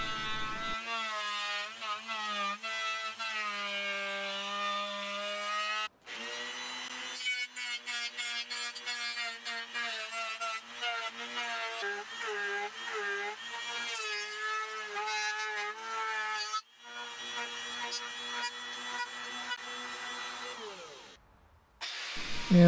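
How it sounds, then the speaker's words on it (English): A handheld router cuts the cavities and neck pocket of a custom T-type guitar body, giving a loud, close, high whine that rises and falls with the cuts, stops briefly twice and then spins down near the end. "course finishing the cavities and the neck pocket with a handheld router."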